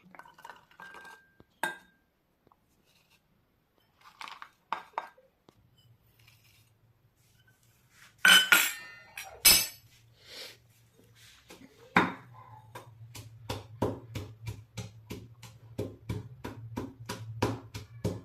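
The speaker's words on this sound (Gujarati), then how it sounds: "આદુ લસણ અને આ ધાણાની ડાળીઓ એ આપણે ખાંડી નાખીએ" Ginger, garlic and coriander stems being pounded into a paste, heard as a few scattered knocks at first, then a run of sharp, rhythmic pestle strikes that grow steady and repeated, close and fairly loud, with no talk.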